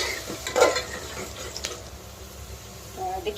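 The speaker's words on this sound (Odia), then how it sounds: "ଏବେ ପିଆଜକୁ ଦବା ଭଲସେ ଭାଜି" Sliced onions fry in oil with bay leaf and cinnamon, giving a soft steady sizzle under the scrape and clink of a spoon stirring in the pan.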